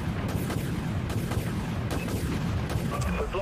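Destroyer weapons fire in the space combat game Dreadnought, a dense, continuous barrage of booming artillery-like shots and rumbling impacts, loud and close, with no pauses.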